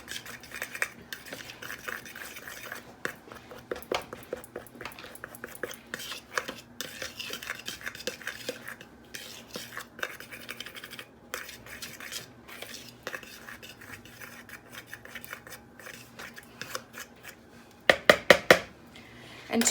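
A utensil stirring and fluffing a dry low-carb flour mixture with baking powder for keto taco cups, soft scraping and tapping against a bowl with a quick burst of sharper clinks near the end, no voices.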